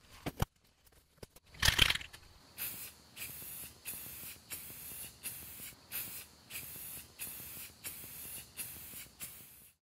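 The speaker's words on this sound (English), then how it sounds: "I'm going to spray some paint on it now." A few faint clicks and rattles, then a spray can hisses in a long burst followed by a series of short, evenly spaced sprays.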